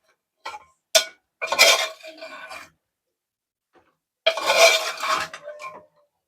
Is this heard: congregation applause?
no